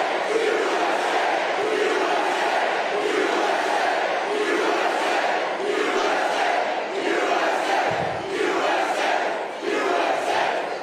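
A large crowd at a live political event chants in a loud, rhythmic, repeated cadence, with cheering mixed in, continuous and close.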